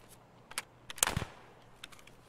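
Distant gunfire in the game Escape from Tarkov, set in the Woods map: a few faint, scattered cracks and pops, with a small cluster near the middle, over quiet background hiss.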